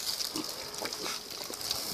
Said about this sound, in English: All right, these are our pigs.